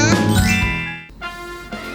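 A bright notification bell chime rings out loud and alone, its sustained tinkling overtones fading over about a second before a softer second ding follows near the end.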